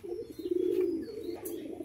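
A pair of white-eyed Giribaz pigeons coo close by, one soft, low, rolling coo lasting under two seconds over faint background noise.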